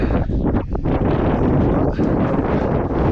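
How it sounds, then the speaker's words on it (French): Steady wind rushing and buffeting across an outdoor microphone on a mountain ridge, a continuous dense roar with no clear pauses. "il y a un petit vent"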